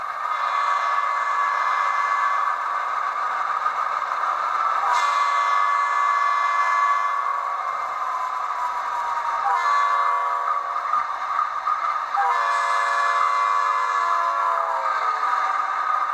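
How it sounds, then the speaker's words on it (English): Model train horn from an ESU LokSound decoder in a Rapido HO scale B36-7 locomotive, playing a Doppler effect: sustained chime tones that bend down in pitch at several points, steady and fairly loud with no talk. "F5 is Doppler horn."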